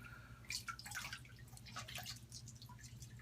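Liquid trickles and drips onto a shaving brush up close, faint splashy patters and small drops over a low steady room hum, with no one talking.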